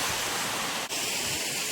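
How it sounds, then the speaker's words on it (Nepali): A waterfall roars as a steady, dense wash of white-noise rush that holds level throughout, close and loud, with no voices over it. "यस्तो छ गाइस यहाँको झरनाहरू तपाईँलाई देखाइरहेको छु"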